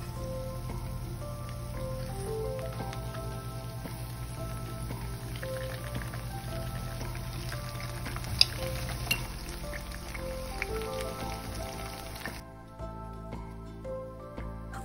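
Banana lumpia (turon) frying in hot oil, a steady close crackle and sizzle running throughout with a few sharper pops near the end, no voices.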